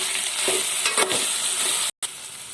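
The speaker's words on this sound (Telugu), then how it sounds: "మళ్ళీ ఒకసారి కలుపుదాం" Potatoes with ginger-garlic paste and turmeric being stirred in a hot pan, a steady close sizzle broken by a few spatula scrapes and a brief gap near the end.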